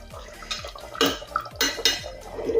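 A spoon stirs Kolkata-style mutton biryani mixture of mutton and potatoes in a cooker, several sharp metallic scrapes and knocks in an uneven rhythm, close up over a low background.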